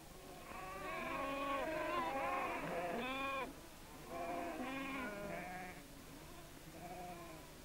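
Sheep and lambs bleat on a Faroese farm on Skúvoy, several wavering calls in overlapping bursts close by, then fading, with no talk.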